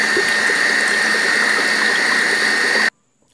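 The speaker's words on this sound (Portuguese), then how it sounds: "Levo na batedeira, bato um pouquinho e depois começo a colocar a farinha." A stand mixer fitted with a dough hook churns homemade bread dough, a loud steady mechanical whir with gear noise that runs continuously for about three seconds and then cuts off abruptly into near silence.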